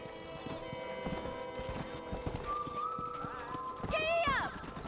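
Rhythmic horse hoofbeats clip-clop steadily with ambient game music in Red Dead Redemption, then a horse whinnies loudly near the end.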